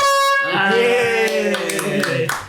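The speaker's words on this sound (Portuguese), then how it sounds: "E hoje quem vai apertar a nossa buzina é o Thiago." An air horn is pressed during a podcast recording and gives a loud, sustained, brassy blast of about two seconds after a short pause, then fades out amid faint background noise.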